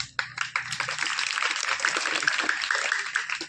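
Steady, dense clapping from an audience at a government middle school ceremony, close and fairly loud, running for a few seconds with faint voices beneath.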